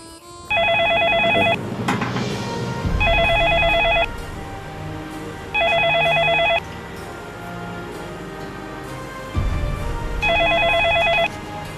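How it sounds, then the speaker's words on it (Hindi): A telephone rings in repeated bursts of bright electronic trilling, four rings spaced evenly, loud and near, over a low background score in a tense drama scene. "सर काफी देर से आपका फोन बज रहा है सर।"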